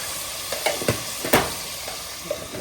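Tomato, rock salt and turmeric sauté in a hot pan, a brief sizzle with a few sharp stirring scrapes and clinks, close and moderately loud.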